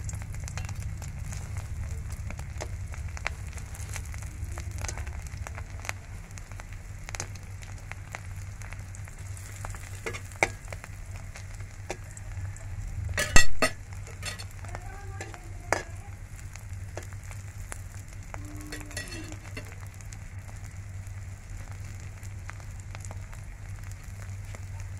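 Pieces of dried fish fry in a pan with a low, continuous sizzle under a faint hum, with sparse pops and a louder sharp spatter midway.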